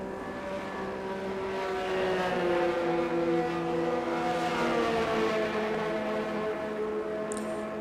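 Race car engines drone steadily in an online Belgium GP event, several rising and falling tones overlapping as the cars head out, loud and continuous with no talk.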